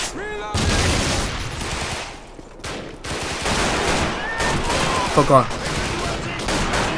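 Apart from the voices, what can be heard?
gunfire in Call of Duty 2 video game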